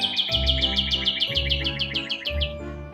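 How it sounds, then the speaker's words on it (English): A cardinal chirps loudly and close by in a rapid run of repeated bright, clipped notes, set against a low rhythmic pulsing background. "Hey, Cardinal. Yes, you're pretty, but you're loud."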